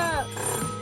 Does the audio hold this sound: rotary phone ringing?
yes